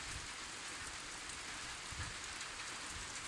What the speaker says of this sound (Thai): ช่วงเย็นๆฝนตกครับทำงานไม่ได้